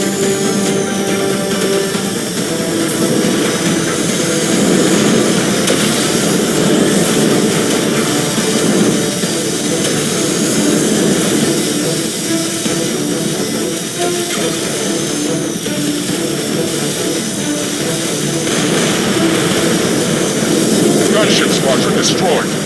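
Loud, continuous roar of jet aircraft engines in the tower defense game X-Morph: Defense, with a whining high tone, steady throughout, with a voice faintly audible beneath.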